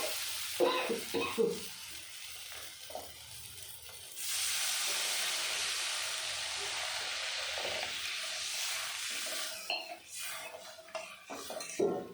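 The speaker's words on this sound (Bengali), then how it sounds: "গ্রেভিটা ফুটে গেছে" Water is poured onto frying masala for a tilapia fish curry gravy, setting off a sudden loud, sustained hiss and sputter after some clinking and scraping of a utensil, before the sound settles back to stirring and pan clatter nearby.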